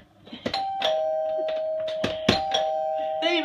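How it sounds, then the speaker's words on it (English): The doorbell of a 1976 Continental Supreme luxury travel trailer rings with a sustained electronic tone, struck several times in a row, close and clear over a quiet room. "They even came with a doorbell,"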